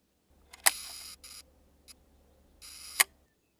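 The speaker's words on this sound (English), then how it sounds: "Sounds like my shutter kind of got a little stuck there." Large format camera shutter sticking during a one-second exposure: a sharp mechanical click opening, soft buzzing whirs and an irregular pause, then a second click closing about two and a half seconds later, quiet and close.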